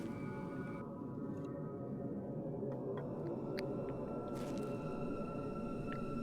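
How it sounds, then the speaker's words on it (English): Eerie, droning hum from the Fatal Frame: Maiden of Black Water game, a low continuous tone with faint higher tonal notes layered above, steady and unbroken throughout. "What's with the humming sound?"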